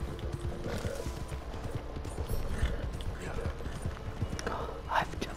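Horse hooves clip-clop in a steady walking rhythm in Red Dead Redemption 2, close and continuous beneath game ambience, with a brief horse whinny near the end.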